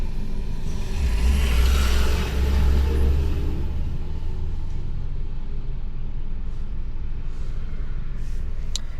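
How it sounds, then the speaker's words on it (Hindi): Driving school car engine idling after starting, a low steady rumble close by that swells briefly early on and then settles into an even drone, with no talk over it. "हमारी गाड़ी स्टार्ट होगी, ठीक है।"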